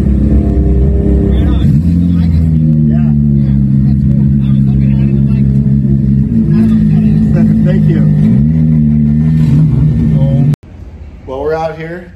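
A 1993 car's engine runs steadily with a low, continuous hum close by, while people talk over it; the engine cuts off near the end.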